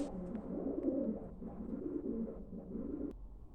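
Soft, low cooing of two female pigeons, a repeated throaty murmur close by with a few faint higher chirps in the background.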